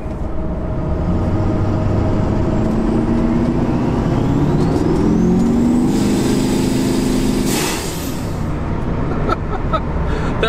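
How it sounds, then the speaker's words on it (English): A compound turbo Duramax diesel truck rumbles loudly close by, its engine note building before a sharp airy whoosh from the blow-off valve, then settling back to a steady idle. "That blow-off valve is insane."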